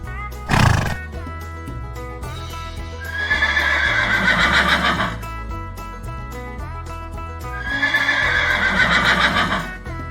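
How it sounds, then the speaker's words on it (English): A horse lets out a loud, close neigh at the start, then hooves clip-clop in two bursts over a steady musical backing, with no talk. "Horse."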